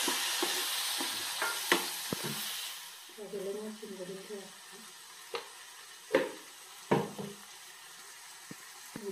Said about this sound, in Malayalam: തക്കാളി എല്ലാം കൂടി നന്നായി മിക്സായി നല്ലപോലെ വഴന്നിട്ടുണ്ട്